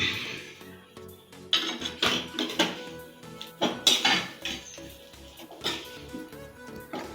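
Mango pickle being mixed in a pot, heard as irregular clanks, scrapes and clinks of a spoon against metal that come in uneven bursts, fairly close, with no talk.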